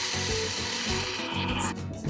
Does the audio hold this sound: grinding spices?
yes